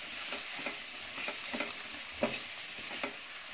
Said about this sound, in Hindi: शिमला मिर्च और हरे प्याज को भी हमने 1-2 मिनट भूना है।